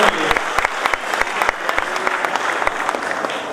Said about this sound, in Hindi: जोरदार तालियां बाबा साहब के नाम के लिए।